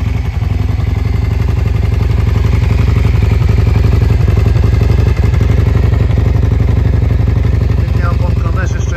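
A 1991 Yamaha Virago 535 motorcycle idles close by with a steady, even low rumble and a faint rhythmic clatter, running smoothly and continuously with no talk over it.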